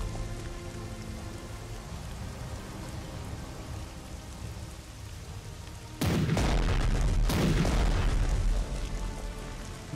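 Steady rain hisses through a night scene in a World War II strategy game about Operation Sea Lion, then louder crackling bursts and booms break in over the downpour during the last few seconds.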